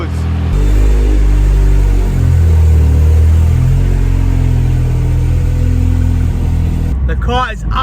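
Ford Sierra Sapphire RS Cosworth, an abandoned car with a rusty underside, running with a steady loud engine drone throughout, its low rumble holding near and close, with a brief change at the very end.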